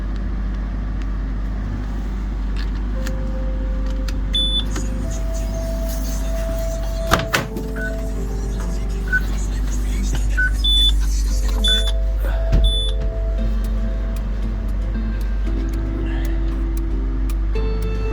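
Inside an abandoned Peugeot 207cc on an ignition start attempt, a steady low hum runs under scattered electronic beeps and chimes, with a sharp clunk midway, all fairly quiet.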